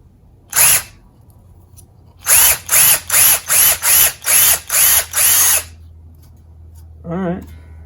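Power drill boring into a Firebird guitar body: one short burst, then a rapid run of about eight evenly spaced bursts, close and loud, followed by a brief tonal whine.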